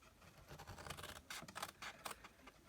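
Scissors cut straight up the score lines of a sturdy paper gift bag, giving several close, crisp snipping and rustling bursts in quick succession.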